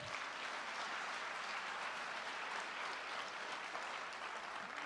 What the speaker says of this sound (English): let's give everybody a round of applause for that